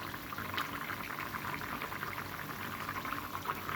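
Rui fish curry broth simmers at a steady boil in the pan, a soft continuous bubbling and hiss heard alone at low volume.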